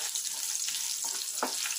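Garlic, cumin and cashews frying in oil for jeera rice, a steady close crackling sizzle with a faint stirring scrape, no speech.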